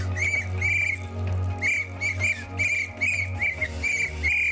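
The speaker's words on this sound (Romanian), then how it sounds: "Nu te supăra dumneata, de ce fluier?" Shrill referee-style whistle blasts repeat in a regular rhythm in a club, loud and close, about nine short bursts over a steady low music bed, with no voices.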